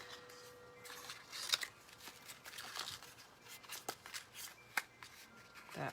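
Scissors snip away excess paper or card while a jar-of-flowers shaker craft is being made, giving soft close crisp cuts and rustles in an irregular run with faint background noise.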